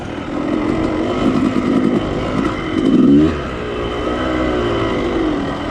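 A motorbike is ridden close by, its engine droning loudly with a couple of revs that rise and fall, including one stronger surge midway.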